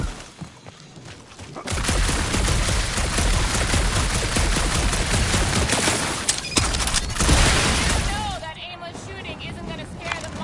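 Dense, continuous blaster-style gunfire from the Guardians of the Galaxy video game in a dark interior, a loud sustained barrage lasting several seconds, with a voice talking over the shooting.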